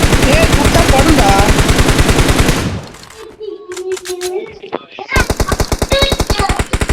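Rapid automatic gunfire in the BGMI battle royale game, loud and continuous bursts for several seconds, a pause with scattered shots and game tones, then another sustained volley, with faint voices underneath.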